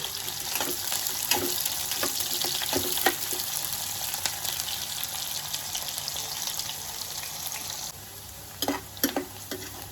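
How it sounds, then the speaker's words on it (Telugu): Onions and mustard seeds fry in a pan with a continuous hissing sizzle, broken by occasional scraping strokes of a stirring spoon. The sizzle drops quieter near the end. "ఆనియన్ కొంచెం బ్రౌన్ కలర్ వచ్చేదాకా వేయించుకోవాలి"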